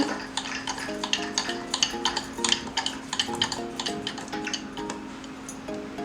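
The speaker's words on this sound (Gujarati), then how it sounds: "અને એને સતત આ રીતે વલવતા રહેવાનું છે" Curd is churned by hand for fifteen to twenty minutes to separate butter for lassi. Steady, rhythmic sloshing knocks repeat close by over a faint tonal hum.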